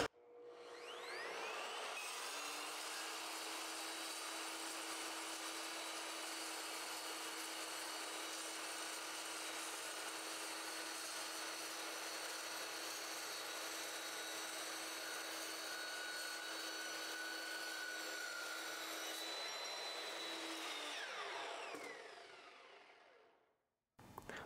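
An Evolution EVOMAX chop saw slices through quarter-inch-thick, six-inch-wide steel flat bar, a loud sustained whine with a steady grinding roar that holds for about twenty seconds before the blade spins down and stops.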